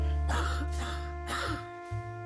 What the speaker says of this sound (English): You coughed up blood.